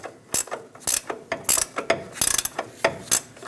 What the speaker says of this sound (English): Remove the ball joint nut.